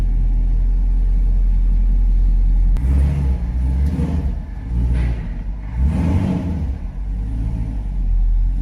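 A 2020 Chevrolet Camaro with lowering springs idles with a loud, deep rumble, then a couple of throttle blips swell and fall back toward idle at a cars and coffee meet.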